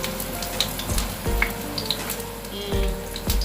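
Garlic fries in olive oil over low heat with a steady, close crackling sizzle. Occasional soft knocks and stirring sounds come through, and no one talks.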